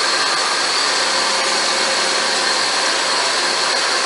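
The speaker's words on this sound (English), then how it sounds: "the compressor was making a noise and had a burn smell to it" A/C compressor on a 2005 Hyundai Santa Fe 2.7L engine, running with a bad clutch bearing, gives a loud, steady broadband whirring roar that holds unchanged throughout, close and without talk.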